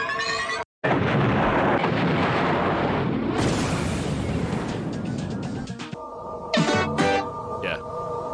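A video game bomb explosion in Ravens Holiday Halcyon Hovel, a loud sustained roaring blast that fills the sound for several seconds after a brief cut, then fades into electronic game tones.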